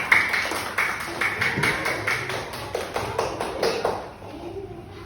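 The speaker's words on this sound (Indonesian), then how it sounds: "Tepuk tangan untuk kelompok 2." Classroom applause for a student group, a brisk patter of claps from many hands lasting about four seconds before fading, with murmuring voices.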